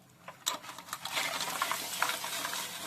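Crabs going into frying masala and being stirred, a soft sizzle building under scraping stir strokes and light pan clatter, fairly close and steady with no talk.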